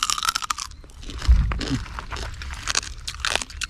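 Crunchy bites into fried river crab caught and cooked in a forest, several close, irregular crackling chews with a heavier crunch near the middle, no talking.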